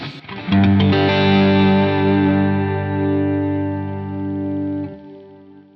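Electric guitar played through a Quad Cortex capture of a Gain 2 overdrive pedal, a loud sustained distorted chord ringing out for several seconds after a strummed attack, then cut off near the end.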